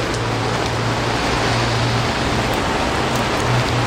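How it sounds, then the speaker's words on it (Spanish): Steady rain falls outdoors, a dense, continuous hiss of drops with a low hum underneath, holding evenly and fairly loud throughout without any voices. "Está lloviendo."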